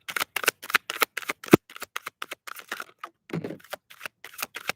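Rapid bursts of tarot cards being shuffled, riffling and snapping in quick repeated runs with short pauses between, close to the listener.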